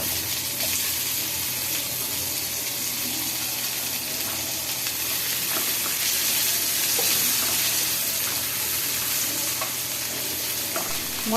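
Spices frying and being stirred in a pan for a duck egg dish, a steady close sizzle with repeated scraping stirs throughout, no talking.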